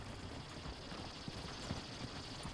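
Horse hooves clip-clop in the Red Dead Redemption 2 video game, giving soft, irregular low thuds under a steady wash of background noise, with no talking.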